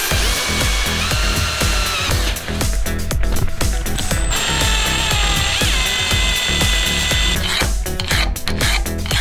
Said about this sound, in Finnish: Eli lähdetäänkin poraamaan reikä keskelle